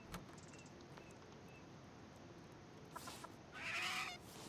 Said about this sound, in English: bloody chicken on me.